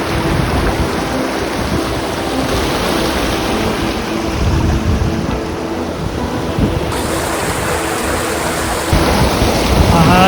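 Icy glacier meltwater rushes over stones in a rocky stream in Ladakh, between Khardung La and Nubra, making a loud, steady broadband roar with some wind buffeting the microphone, and no one speaking.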